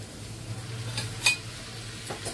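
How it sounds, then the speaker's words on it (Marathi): Wet dried shrimp (kolim) is stirred into zunka sizzling in a pan, a low, soft sizzle under a few brief scraping strokes of the spoon. "आता ह्याच्यात मी हा ओला कोलिम टाकते."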